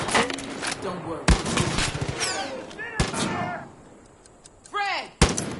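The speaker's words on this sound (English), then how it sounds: "Shots fired!" Several loud, sharp gunshots ring out in Far Cry 5, scattered among shouting voices and game sounds.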